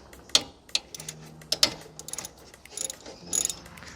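A hand ratchet works a bolt loose beside the alternator and AC compressor of a Honda Civic Coupe SE, giving short bursts of sharp clicking pawl ticks with uneven pauses, close up and alone.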